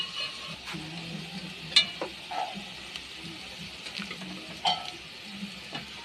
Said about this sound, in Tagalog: Halo-haloin lang natin siya mga kaibigan para hindi siya masunog.